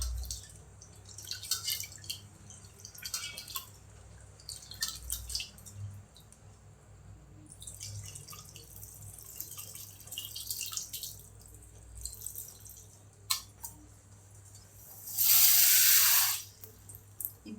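Soaked tamarind squeezed by hand for a tamarind water dish, with scattered small drips and trickles of water, then a louder, steady pour of water for about a second near the end.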